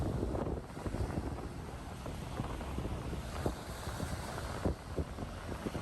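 Ocean waves roll onto a Hawaii shore, making a steady broadband wash and rumble. Wind buffets the microphone throughout, with no voices.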